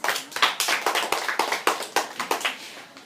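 Steady crowd clapping for a high school debate participant, many hands close and lively, holding a busy uneven rhythm for a few seconds.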